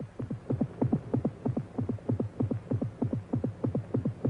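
A rabbit's heartbeat throbs in a fast, steady rhythm of paired low thumps, loud and alone throughout.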